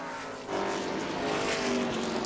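ARCA Menards Series West race cars roar around Tucson Speedway, a dense, loud engine drone that swells as the pack passes, steady and close with no talk over it.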